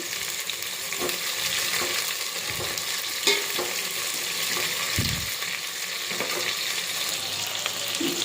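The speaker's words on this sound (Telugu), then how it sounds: "ఆనియన్స్ మొత్తం వేసుకున్న తర్వాత నీట్గా కలుపుకోవాలి." Chopped onions frying in oil for vegetable rice, a continuous close sizzle with repeated scraping and knocking of a spoon as they are stirred through.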